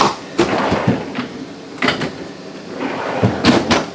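A big refrigerator door opening in a 2022 Sandpiper 391FLRB RV, a few sharp clunks and thumps of the door and latch, close and fairly loud.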